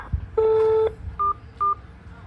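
Telephone keypad DTMF tones beep clearly on an automated phone line: one longer dual-tone press followed by two short beeps, crisp and close.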